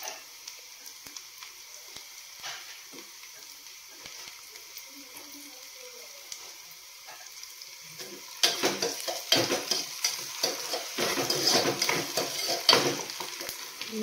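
Tomatoes fry and get stirred in a pan while making Maggi noodles, a soft steady sizzle that swells louder partway through with scraping stirs and clinks of a utensil.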